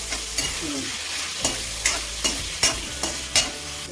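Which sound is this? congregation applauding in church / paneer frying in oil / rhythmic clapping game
paneer frying in oil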